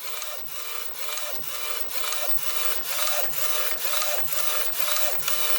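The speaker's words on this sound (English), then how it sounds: "I just did the print head cleaning and now it's doing the second print" A Procolored DTF printer running a print after a print head cleaning, its carriage sweeping back and forth in a steady, regular rasping rhythm of repeated passes, close and alone.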